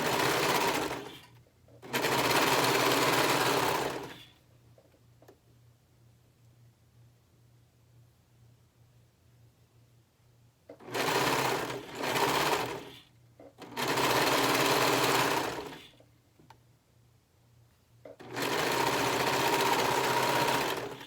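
A sewing machine stitches shirt fabric along matched edges in four loud bursts of rapid mechanical whirring, a long run, two short pulses and two more long runs, with near-silent pauses between them.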